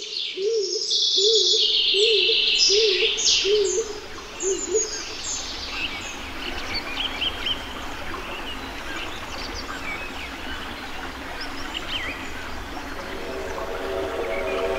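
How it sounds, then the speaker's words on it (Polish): Soft, low cooing calls of a stock dove repeat in a steady series at the start, with bright chirping songbirds above and a quieter birdsong-filled old beech woodland ambience afterward. "W starych buczynach znajduje też schronienie gołąb siniak"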